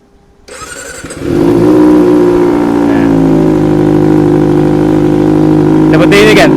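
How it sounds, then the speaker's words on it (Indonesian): A Kawasaki ZX25R cafe racer fitted with twin silencers fires up and settles into a loud, close, steady idle, its exhaust droning with a raspy, even pulse, then a brief higher blip near the end. "Kita buat motor ini menjadi 2 silencer. Pengen tahu suaranya seperti apa?"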